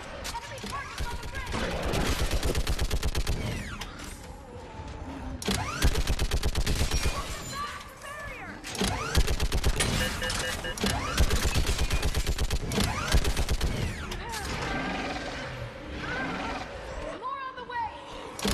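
Rapid gunfire from Mass Effect 3 rattles in dense, sustained bursts with brief pauses, loud and close, mixed with shouted combat voices and battle noise.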